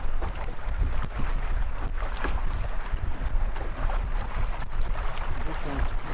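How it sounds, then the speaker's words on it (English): Steady strong wind roars across the microphone outdoors on saltwater while canoe fishing, with rushing, buffeting noise throughout and faint water sounds beneath. "Yeah, bloody windy today though"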